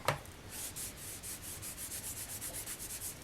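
Faber-Castell Gelatos colour sticks swiped across paper make soft, close, rhythmic scratchy rubbing strokes, about a dozen quick swipes in a regular back-and-forth pattern.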